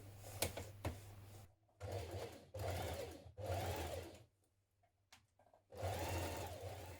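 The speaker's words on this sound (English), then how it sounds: "we're going to stitch this in place. So use a long stitch." A sewing machine stitches a dress sleeve into the armhole with a long stitch, running in several loud bursts separated by short pauses.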